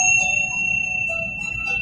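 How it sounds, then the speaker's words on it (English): Bells ring out in a sustained, shimmering tone during a guided breathing and healing session, their bright overtones hanging steadily across the whole stretch with no talking over them. "I'm just going to ring the bells to clear the energy."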